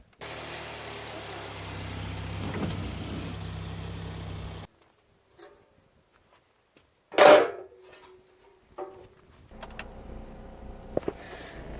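A 2005 Chevrolet Cobalt engine idles with a low steady hum for several seconds, then stops, followed by quiet, a sharp knock and faint clatter before a softer hum returns.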